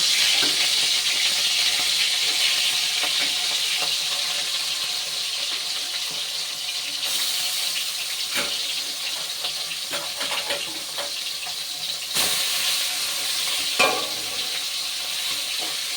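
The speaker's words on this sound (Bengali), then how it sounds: "এবার এই তেলের মধ্যেই সবার আগে এই মাছের ছোট ছোট গলার পাশের কাঁটাগুলো ভেজে নেব।" Small fish bones fry in mustard oil in a wok, giving a steady, dense sizzle throughout with occasional stirring scrapes and brief crackles, fairly close and alone.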